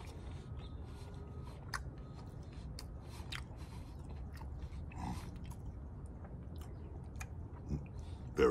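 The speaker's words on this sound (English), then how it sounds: "maybe we take a bite of it just plain" Someone bites into and chews a Taco Bell shredded beef dipping taco eaten plain, with soft close-up crunching and mouth sounds spread across the clip under a quiet background.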